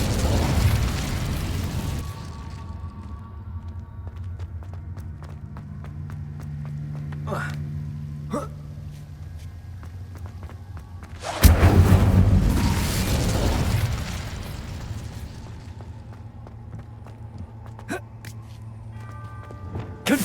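Incendio fire spell cast in Hogwarts Legacy, a sudden loud fiery burst midway that roars briefly and fades, set against ambient game noise and a few earlier sharp clicks.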